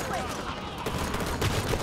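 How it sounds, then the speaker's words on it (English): Plasma cannon firing in Halo 5: Guardians, a fast, dense stream of sharp energy blasts rattling continuously, loud and close, with a voice talking faintly underneath. "This plasma cannon feels totally different to the old plasma cannons."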